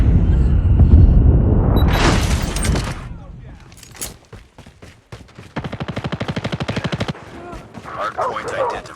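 Rapid gunfire in the Call of Duty Mobile video game during a multiplayer match, loud bursts of automatic fire and single shots with impacts, mixed with in-game announcer voice and effects.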